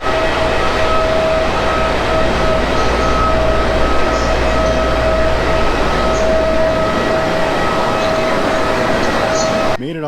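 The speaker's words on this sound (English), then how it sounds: "Made it onto the train." Loud, steady rumble of a train rolling along the rails, with a faint high whine riding over the constant roar.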